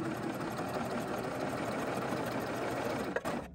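A Babylock Triumph serger runs continuously at a steady fast whir, stitching a t-shirt shoulder seam, then stops abruptly with a small click near the end.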